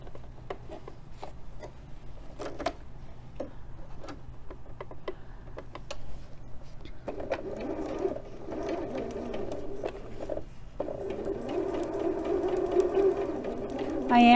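A sewing machine stitches a quarter-inch seam on a Shibori Vases quilt block, a steady motor whir with light ticking that grows louder and denser in the second half.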